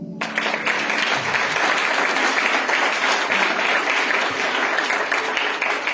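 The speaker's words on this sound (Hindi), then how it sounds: "ताली बजा दीजिए।" A church congregation claps together in a dense, steady burst of applause that continues evenly for several seconds.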